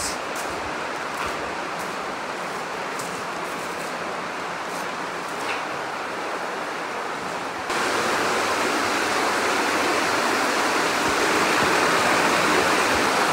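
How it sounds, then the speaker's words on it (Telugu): Water rushing out of Arwah Cave at Cherrapunjee, Meghalaya, a continuous broadband roar like a stream or small waterfall that grows louder and denser partway through, with no talk. "ఐ థింక్ వాటర్, ఈ కేవ్స్లో నుంచి వాటర్ పోతా ఉన్నాయి."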